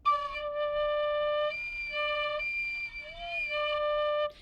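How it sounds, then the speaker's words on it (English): A tin whistle squeaking as air leaks through uncovered finger holes, producing thin, piercing, sustained tones that wobble and jump in pitch, close and alone. "if you hear your tin whistle do that, that means that you are losing air"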